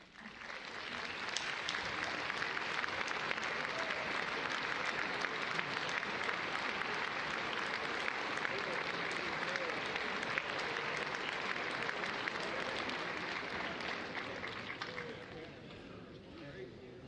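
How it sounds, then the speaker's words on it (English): Sustained applause from a large commencement ceremony audience, a dense, even wash of many hands clapping that swells in quickly, holds steady for about fourteen seconds, then thins out toward the end. "please stand so we can give you a round of applause."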